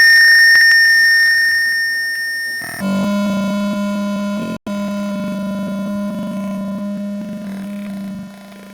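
An Arduino gas and smoke alarm in a Tinkercad circuit simulation gives a steady electronic tone. The tone shifts pitch, drops out for a moment, then continues as a sustained buzzy beep alone.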